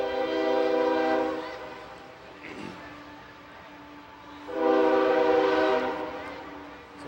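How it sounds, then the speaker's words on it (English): Train rolling past behind a pee wee football field, sounding two long loud horn blasts separated by a quieter rumbling gap, with faint voices underneath. "as we listen to the train go by behind us here"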